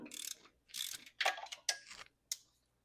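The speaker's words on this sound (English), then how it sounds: "can't even operate a ratchet correctly." A hand ratchet works bolts loose on a Dodge during alternator bracket fabrication, giving several close bursts of rapid clicking separated by short pauses, the last one brief, with no talk over it.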